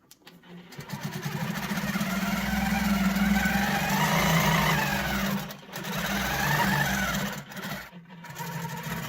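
A longarm quilting machine stitches a pantograph row across a quilt, its steady motor whir and rapid needle hum running loud and continuous, dipping briefly twice as the machine pauses or slows.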